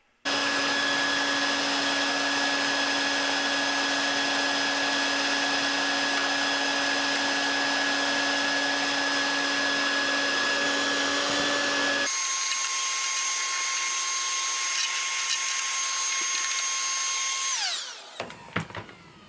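A steady, loud vacuum motor whines continuously with strong tonal hums while sucking up a large nest, then shifts to a higher pitch before cutting off near the end.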